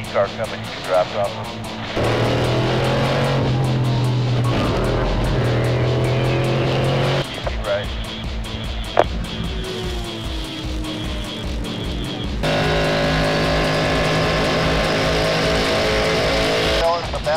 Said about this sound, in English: Car coming, you can drop off.